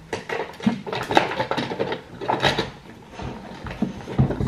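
A drawer is opened and rummaged through, with close clattering, shuffling and knocks of small objects in irregular bursts.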